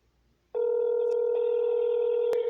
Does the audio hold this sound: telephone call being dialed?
yes